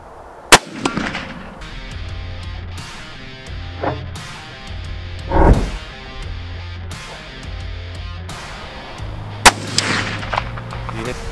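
Mosin Nagant rifle fired with iron sights at an outdoor range: two sharp, loud shots, one near the start and one near the end, with a softer thump between them over steady background noise.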